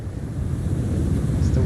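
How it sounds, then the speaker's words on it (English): Wind blowing through an outdoor scene in the video game Enshrouded, a steady low whooshing rush that holds evenly loud throughout with no talk over it. "It's the wind."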